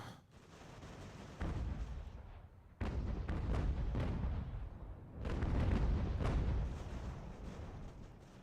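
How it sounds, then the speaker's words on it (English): Artillery batteries firing in Ultimate General: American Revolution, a strategy video game, with booming cannon volleys that roll and overlap in several loud waves, each burst fading into rumbling echoes before the next salvo. "focus on the larger artillery batteries"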